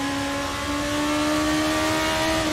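Formula 2 race car engines in Assetto Corsa at the 2017 Abu Dhabi Grand Prix drone steadily at high revs, a dense continuous whine from several cars running close together with no talk.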